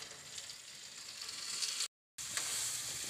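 Green chillies frying in a pan with yogurt-style home cooking, giving a steady, soft, close sizzle with a brief silent gap partway through.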